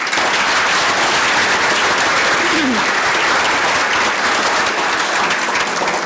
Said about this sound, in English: Let's have a big round of applause for all our honorees.